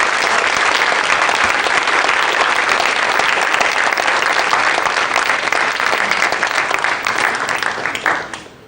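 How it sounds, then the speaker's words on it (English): A large conference audience in Chicago applauds loudly and continuously, a thick wash of clapping held for several seconds before tapering off quickly at the close. "Thank you all of you for your supportive applause."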